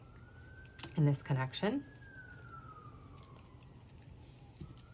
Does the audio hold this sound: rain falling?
no